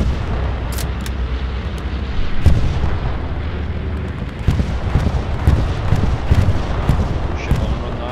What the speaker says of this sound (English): Artillery is wiping them out, man.